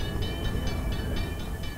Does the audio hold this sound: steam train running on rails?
yes